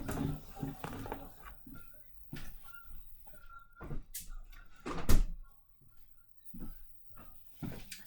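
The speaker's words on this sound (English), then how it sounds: "Let me just close the door, or window, excuse me." A door or window being shut indoors, with a sharp thud near the middle standing out among soft handling noises and quiet shuffling; no one speaks.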